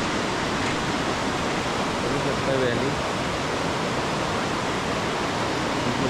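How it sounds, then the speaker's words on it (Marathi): The Dudh Koshi river flows below a suspension bridge in a Himalayan valley near Toktok, a loud, steady broadband rush of water, with a voice briefly speaking over it. "खाली दूधकोशी रिव्हर वाहते, दुधासारखं पाणी"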